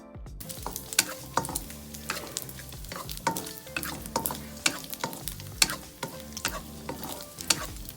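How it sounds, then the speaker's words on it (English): Sliced Chinese lap cheong sausage frying on low heat in a pan with half a teaspoon of vegetable oil, giving a steady close sizzle with irregular scraping and clicking from stirring. "Add half a teaspoon of vegetable oil into the pan and fry them on a really low heat."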